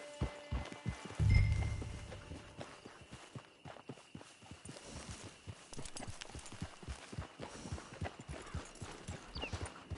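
A horse walks near a camp, its hooves clip-clopping in a steady, quiet rhythm that carries through the whole stretch, with a brief low thump early on and no talking.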